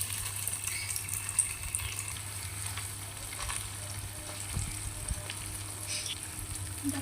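Small fish frying in hot oil in an Indian village kitchen, a steady close sizzle and crackle running throughout with a low constant hum beneath, no voices.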